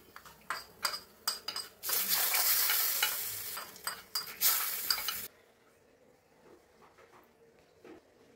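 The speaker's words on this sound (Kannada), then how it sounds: "ಗ್ಯಾಸ್ ಆಫ್ ಮಾಡಿ ಒಗ್ಗರಣೆಯನ್ನ ಈ ತಂಬ್ಳಿಗೆ ಸೇರಿಸ್ತಾ ಇದ್ದೀನಿ." A hot tempering of mustard seeds and cumin is poured into pomegranate peel tambuli and stirred, giving a loud sizzling burst of a few seconds framed by repeated spoon clinks and scrapes against the pot, then quiet.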